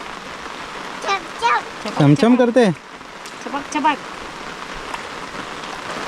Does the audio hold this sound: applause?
no